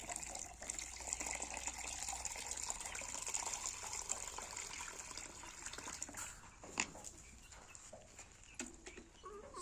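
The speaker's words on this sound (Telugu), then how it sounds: "ఎలా అయితే పడుతున్నాయో నీళ్లు దాంట్లో" Water pours steadily into a container in a poultry yard, a soft continuous trickle with a few faint knocks near the end, no one speaking.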